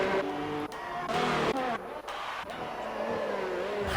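A Ferrari Formula 1 car in a racing video game, set at the Australian circuit, drives out with a steady high engine whine and shifting pitch, loud and continuous, with commentary voices talking over it.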